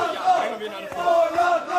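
Spectators at a Cage Warriors mixed martial arts event in London keep up a steady wall of shouting and cheering, rising and falling slightly in loudness over a couple of seconds.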